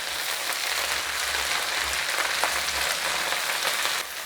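Ivy gourd with potatoes and onions fries on a high flame, giving a steady, dense sizzle and crackle like heavy rain, continuous and fairly loud, easing slightly near the end.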